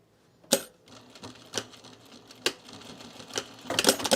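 Sewing machine re-stitching a trouser seam in short bursts, with sharp clacks between runs and a quick rapid stitching run at the end, close and clear with no talking.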